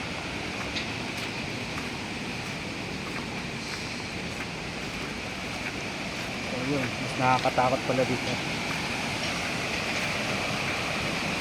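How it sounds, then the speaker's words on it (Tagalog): A swollen river after heavy rain rushes past a building at Science Park in Cabuyao, Laguna, a steady loud roar of water with wind, heard under someone talking nearby. "lumaragasa yung ilog"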